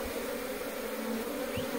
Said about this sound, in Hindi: अब मधुमक्खियाँ जो है धीरे धीरे बॉक्स के अंदर जाने लग गई